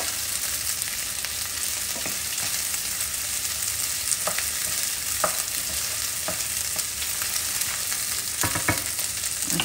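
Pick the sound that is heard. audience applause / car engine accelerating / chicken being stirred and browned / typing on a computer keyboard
chicken being stirred and browned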